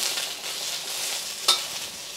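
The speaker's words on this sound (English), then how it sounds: "I'm just gonna stir fry this until I get to the texture that I like it" Onions stir-fry in a smoking hot wok, a steady close hiss of sizzling with one sharp scrape of a utensil partway through.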